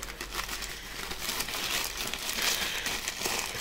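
Plastic packaging bag around an Armytek Wizard Pro Magnet USB flashlight, crinkling continuously at close range, soft but steady with no talk.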